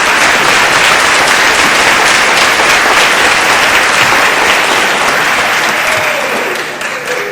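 An audience at a 2007 animal rights conference gives loud, sustained applause welcoming speaker Harold Brown, dense clapping filling the room before tapering off at the end.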